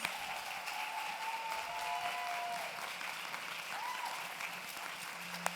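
Crowd applause, moderately distant, with steady clapping throughout and a few faint whistles or cheers rising above it.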